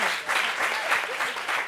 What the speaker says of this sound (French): Applaudissements pour Leïla,